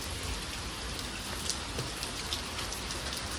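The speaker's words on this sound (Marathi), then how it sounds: "पाऊस काय थांबत नाही आज." Heavy rain falls in a steady, dense hiss, close and continuous with scattered individual drops, and no voices are heard.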